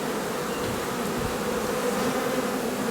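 Honey bees buzz in a dense, steady drone, close and continuous, with no voices over it.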